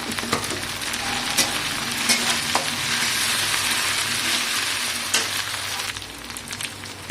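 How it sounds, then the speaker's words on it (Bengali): Onion, ginger, garlic and chopped green chili frying in a pan for brain bhaji, a steady close sizzle broken by a few sharp scraping stirs, with no talking. "পেঁয়াজ আদা রসুন সব কালার হয়ে গেছে, ভাজা হয়ে গেছে"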